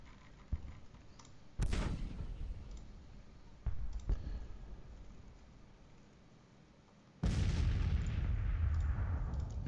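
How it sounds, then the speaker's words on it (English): Civil War artillery fires in a counter-battery exchange in the strategy game Grand Tactician, heavy cannon booms erupt with rolling tails, interspersed with faint interface clicks against a low battlefield rumble. "Let's go ahead and do some counter battery fire."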